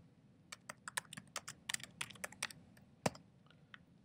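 Typing on a computer keyboard, a quick irregular run of close, crisp key clicks with one louder stroke near the end, heard alone without talk.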